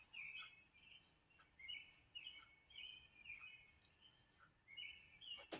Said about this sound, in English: You hear the beautiful birds chirping